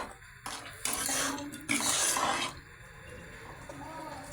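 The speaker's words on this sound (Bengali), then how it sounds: "দেওয়ার পরে একটু নাড়াচাড়া দিয়ে নিচ্ছি।" Spoon stirring spice paste into fried tomatoes in a pan, with two bursts of scraping and clattering against the metal, close by and moderately loud.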